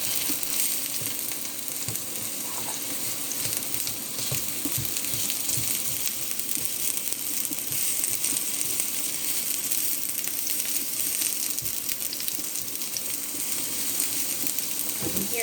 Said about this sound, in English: the tomato sauce making noise